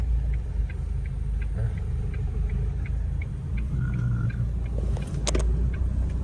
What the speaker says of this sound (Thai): รถ10 ล้อ